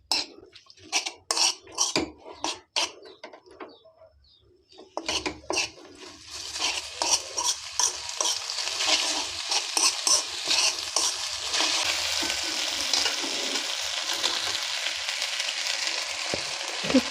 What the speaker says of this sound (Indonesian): Kita aduk-aduk sampai merata.